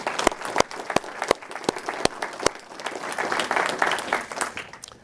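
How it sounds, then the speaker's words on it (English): Audience applause at a Department of Homeland Security awards ceremony in San Antonio, Texas, opening with several sharp, separate claps that spread into a steady, moderately loud round of clapping from the crowd. "please join me in a round of applause."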